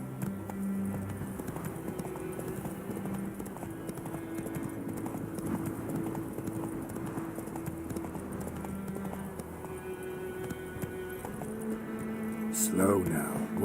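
Roach, a horse in The Witcher 3, gallops with a quick, steady rhythm of hoofbeats throughout, with a rider's voice over the hooves and a sharp, sudden sound near the end.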